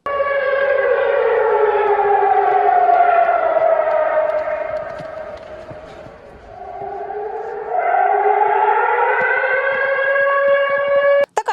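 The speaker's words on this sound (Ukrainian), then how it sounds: "росіянам кажуть, що це просто тренувальна сирена" A civil defense air raid siren wails loud and continuous, its tone rising and falling in long sweeps, dipping midway before climbing again, with a brief cut near the end.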